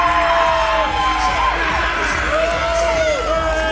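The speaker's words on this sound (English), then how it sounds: "A nearly sold out crowd on the final Thursday night of the month." A nearly sold-out wrestling crowd cheers and whoops on a Thursday night, a loud, dense roar that holds steady for the whole stretch, with shrill whistles and shouts cutting through.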